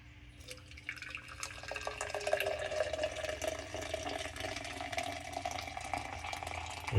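Coffee poured from a French press into a cup, a soft continuous trickle that slowly builds and fills, quiet and close with no talking.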